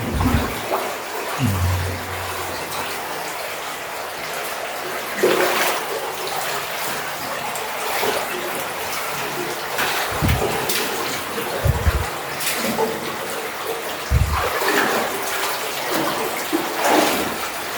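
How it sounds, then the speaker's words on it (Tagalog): A steady rush of underground river water flows through a cave 120 meters inside the passage, with occasional low knocks and splashes breaking the constant wash. "So ilog to sa ilalim mga kuha, ilog sa ilalim."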